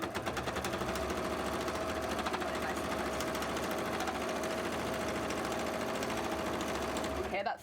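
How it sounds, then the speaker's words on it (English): A sewing machine drives through thick fabric for a cosplay tail, a steady close mechanical hum with rapid rhythmic needle knocking that runs unbroken until it stops at the end. "I believe in you, sewing machine. You got this."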